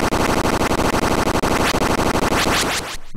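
Rapid burst of identical repeated sound samples, a stuttering machine-gun-like rattle with sharply even rhythm that rises in pitch near the end before stopping abruptly, loud and up front with no voice over it.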